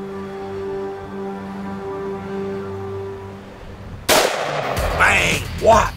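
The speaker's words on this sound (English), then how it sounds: "They hear the bullet hit and the ram takes off." A rifle shot fired at an aoudad ram on a hunt cracks out as a single sharp, loud burst after a quiet stretch, followed by rustling movement and a fainter thump.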